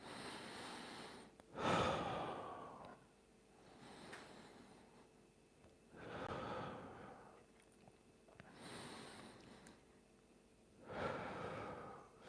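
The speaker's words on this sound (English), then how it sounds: "Breathing in and breathing out." Slow, deep breaths in and out during a calm morning mobility and core stability session, four or five long airy swells spaced a couple of seconds apart, fairly close and quiet, with no talking.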